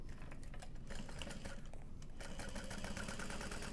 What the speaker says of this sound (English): And then we're going to stitch through those layers.